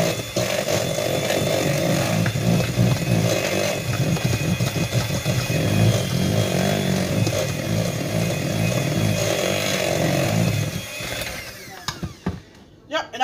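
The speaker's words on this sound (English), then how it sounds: "I'm still old school with a handheld mixer" Handheld electric mixer beating eggs for peanut butter cookie dough, a loud continuous whirring drone for about ten seconds that then cuts off, with brief handling noises after.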